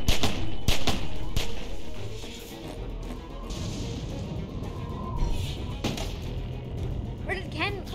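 AK-47 gunfire in The Walking Dead: Season 2 video game comes as sharp, loud shots early, then sporadic cracks over a busy background, with voices talking in between.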